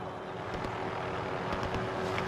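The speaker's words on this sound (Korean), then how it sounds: "야, 헬기 온다, 헬기 온다. 저기 헬기 온다." Helicopter approaching in Call of Duty: Warzone on PS5, a steady broadband rotor and engine drone holding at even loudness, with faint rhythmic thumps pulsing through the roar.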